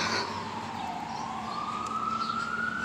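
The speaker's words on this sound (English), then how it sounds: "you always hearing fire truck, ambulance sirens, you know, police sirens" Fire truck, ambulance or police sirens on a New York City street in the Bronx: a wailing siren sweeps down in pitch and then climbs steadily, loud over a constant roar of street traffic.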